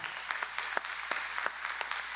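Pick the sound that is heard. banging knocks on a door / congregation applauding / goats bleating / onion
congregation applauding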